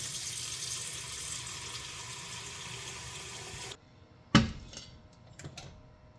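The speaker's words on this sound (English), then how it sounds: "next we are going to fill this pot up with water" Water gushes steadily from a tap into a cooking pot for heating while goat milk mozzarella is made, then the flow stops and a single sharp metallic clank follows, with a few softer knocks after it.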